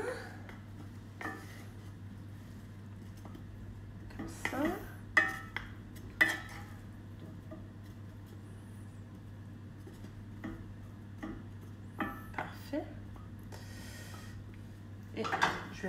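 Potatoes being stirred in a pan during a casual home cooking session, giving scattered clinks and scrapes of utensil against pan over a steady low hum, fairly quiet with gaps between strokes.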